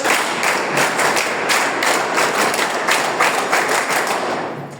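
NCC cadets at a Bhimtal school event clap together in a dense, steady burst, with slight rhythmic pulses running through the sound for nearly five seconds before it eases off at the end.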